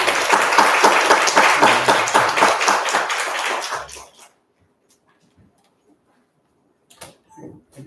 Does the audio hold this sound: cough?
no